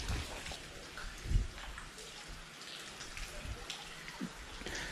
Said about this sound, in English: That's some heavy rain. You know, the sound of that rain falling off the bridge is pretty near relaxing.